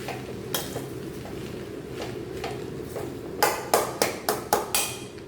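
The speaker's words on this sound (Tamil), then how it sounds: "நல்லா இந்த மாதிரி மிக்ஸ் பண்ணி விட்டுக்குங்க சாப்பாட்டை எல்லாம் ஒன்று போல் கலந்து வரணும்" A spoon scrapes and clinks against a pot while cooked mint rice is mixed: soft, scattered taps at first, then a rhythmic run of five louder metallic strikes near the end, with no talking.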